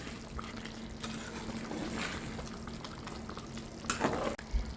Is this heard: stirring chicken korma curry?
yes